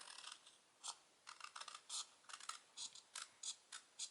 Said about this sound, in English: I'll just take my scissors and trim it off